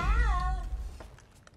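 A cat meows once in the Star Wars Jedi: Survivor video game, a clear rising-then-falling call up close over a low rumble of background game sound.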